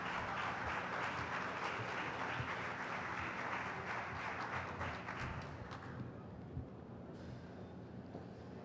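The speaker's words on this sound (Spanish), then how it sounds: "un aplauso por favor" Audience applause welcomes a speaker at a Mexican talk on agricultural biotechnology and transgenic crops. The clapping is faint and distant, holds steady for about six seconds, then thins out.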